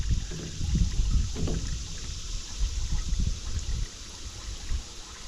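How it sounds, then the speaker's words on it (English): Engine oil drains from a Cat 313 excavator during its 500-hour service, a steady low gurgling pour with uneven splashing pulses, close by and without talk. "I could hear the oil start to drain better too"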